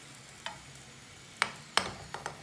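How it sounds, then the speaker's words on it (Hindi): Aloo anda paratha frying in ghee in a hot pan over medium heat, giving a low hiss broken by a few sharp, close crackles and pops spaced out over a couple of seconds, with no talking. "पैन में रोटी शामिल कर देंगे। स्टोव को मीडियम आंच पे रखेंगे, थोड़ा सा साइड में ऐसे घी लगा देंगे"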